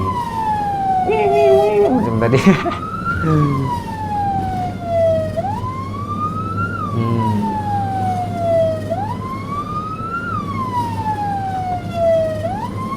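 A wailing ambulance siren on a Malaysian road rises and falls in long, repeating sweeps, loud and close, over steady traffic rumble, with a voice talking briefly near the start.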